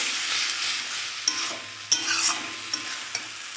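Tomatoes sizzle steadily in a pan over high heat while a utensil stirs them, with a few sharp scraping clicks against the metal; close and alone.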